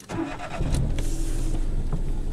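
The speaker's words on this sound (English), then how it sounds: "So I'll just start it now." A Citroen C1 five-door Rhythm running on LPG starts up: a short starter crank catches into a steady, close idle of the small engine, with no talking.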